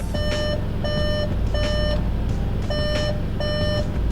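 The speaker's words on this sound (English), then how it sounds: "if the door is open and you move the shifter at all, then it makes a really annoying beep" Five repeated electronic beeps in an even rhythm from a Volkswagen Mk7 GTI, triggered by moving the gear shifter with the door open, loud and close, over a low idling hum with no talking.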